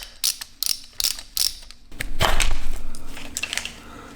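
A ratchet wrench clicks in short bursts while working a rusted transmission bolt loose on a Mitsubishi Evo IX, followed by louder metallic rattling and scraping as the bolt comes free, all close up with no talking.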